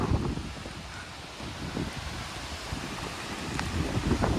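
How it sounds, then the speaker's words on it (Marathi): Strong wind roars and buffets steadily throughout on a mountain trek, with rustling gusts and low rumbling microphone buffeting, no voices. "खूप जोरात वारा सुटलाय"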